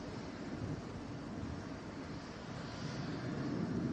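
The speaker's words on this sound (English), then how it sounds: "Going to Salt Lake City, flight 423, it's an A321" An Airbus A321 jet on flight 423 to Salt Lake City rumbles at Atlanta airport, a steady broadband engine roar heard from a distance, faint and unbroken with no talking.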